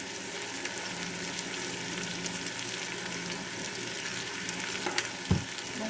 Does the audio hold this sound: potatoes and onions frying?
yes